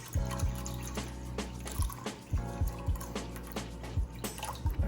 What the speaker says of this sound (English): Okay, put a little bit more water.